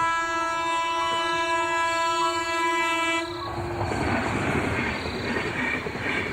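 A train stands at a station as a sustained, loud horn blast sounds, then gives way to the broad hiss and rumble of the train moving off, with no voices present; a sound effect in a Bengali horror story about the last train at night.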